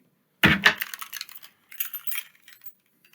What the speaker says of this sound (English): Why have you got my car keys?